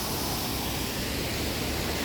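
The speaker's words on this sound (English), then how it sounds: "here's the other side of that waterfall" A waterfall at a Florida resort roars in a dense, steady broadband rush, loud and unbroken, with no voices.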